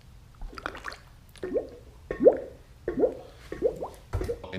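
Used motor oil glugs through a funnel as it is poured, giving a series of about six wet gulping plops at a steady irregular rhythm, close up with no talk.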